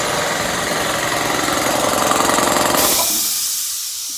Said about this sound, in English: the compressor kicks on as soon as I start going live